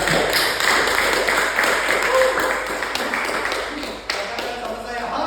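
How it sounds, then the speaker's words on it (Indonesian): A church congregation bursts into loud, sustained applause, many hands clapping in a thick, continuous wash with a few sharper claps and faint voices mixed in. "Yang punya iman besar saya mau dengar tepuk tangan yang paling besar."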